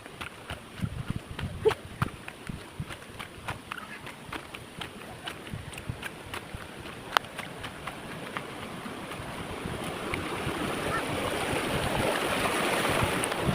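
Steady rushing roar of Bambi Falls pouring non-stop, broadband and continuous, growing louder toward the end, with faint scattered knocks and no talk over it.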